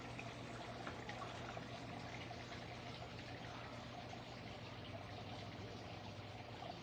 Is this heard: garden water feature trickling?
yes